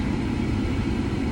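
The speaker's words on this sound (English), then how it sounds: "I hope you can hear me over this air conditioner at full blast" A car's air conditioner blows at full blast inside the cabin, a steady, dense roar of rushing air with a low rumble underneath, constant and close with no other sounds.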